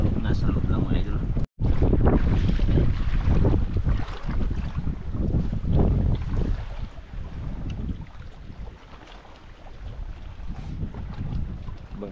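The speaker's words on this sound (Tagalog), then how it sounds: "Ibang klase yung hangin, maglakas, maghina" Gusty wind roars over a fishing boat at sea, loud and buffeting, rising and easing across the stretch, with a brief dropout early and faint voices underneath.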